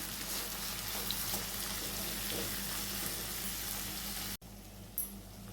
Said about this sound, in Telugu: ఈ టమాటాలు వరకే వేస్తున్నానండి కొంచెంగా వేసి మనము మరి కాసేపు మగ్గించుకోవాలి